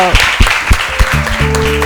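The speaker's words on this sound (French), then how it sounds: "Merci de vous applaudir encore très fort." A children's audience at a kindergarten event in Bondoukou applauds loudly, a steady burst of clapping close by, with a faint tonal hum underneath near the end.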